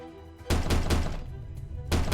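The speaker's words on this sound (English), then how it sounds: "今夜，他终于叩响了门扉。" Door knocking in a Chinese murder-mystery video game set on the Yangtze River: several loud, close thuds arrive in a quick cluster, then a single knock follows after a short pause.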